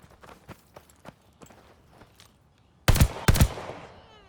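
Gunfire in Call of Duty Vanguard: two loud, sharp shots close together near the end, after a stretch of soft, rhythmic taps that sound like footsteps.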